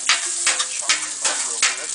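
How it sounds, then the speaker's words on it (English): Eggs sizzle on a Blackstone griddle as a spatula scrapes and taps the flat-top in a quick, regular rhythm, close and fairly loud, with no talk. "Now what I'm going to do is I'm going to put these eggs down here."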